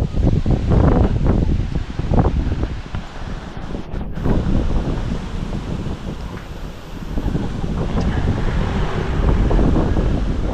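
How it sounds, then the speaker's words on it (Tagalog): Steady strong wind rushes and gusts against the microphone, a loud continuous roar with surging swells. "hapon na naman ang lakas ng hangin."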